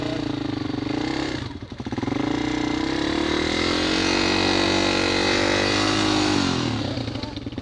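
A trail motorcycle engine is revved steadily on an off-road ride, a loud sustained drone that dips briefly then climbs in pitch and holds, close by.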